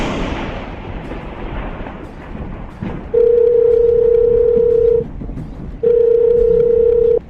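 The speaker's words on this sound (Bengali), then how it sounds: "আমি এখনই পায়েলকে ফোন করছি।" A telephone call being placed gives two long, steady electronic tones, loud and close, with a short pause between them and no voices over them.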